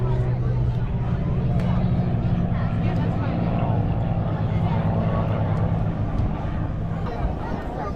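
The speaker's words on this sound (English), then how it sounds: "This airplane can fly as slow as 60 or as fast as 250 miles an hour." T-34 propeller airplanes fly past at an air show, a loud continuous droning engine roar close overhead, with an announcer talking over the noise throughout.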